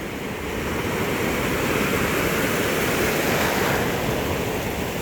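Pacific Ocean surf near a cliff, a loud continuous wash of breaking waves with broad roaring hiss, some wind buffeting the microphone, no voices.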